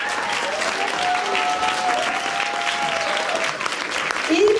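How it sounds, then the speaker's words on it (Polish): A concert audience applauds steadily and loudly throughout, a dense wash of clapping with a faint tonal murmur underneath that swells slightly at the end. "Wielkie brawa."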